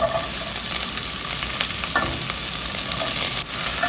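Finely chopped medium onion fries in hot oil for a mutton curry, a loud dense steady sizzle with occasional faint stirring scrapes, close by and without talk.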